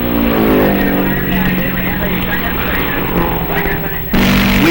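Race car at Road America in 1958, a loud, close engine roar that holds steady and shifts pitch as it passes, with an announcer's voice running over it.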